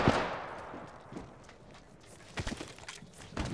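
Bangalore's creeping barrage artillery in the Apex Legends video game lands in scattered, fairly faint booms and rumbling bursts, with a burst at the start and a tighter cluster of impacts later.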